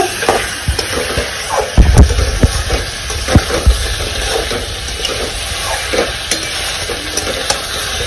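Jackfruit and prawn masala stir-fried over a high gas flame, with a steady loud sizzle and repeated scraping stirs, clustered strokes and clatter of the utensil against the pan.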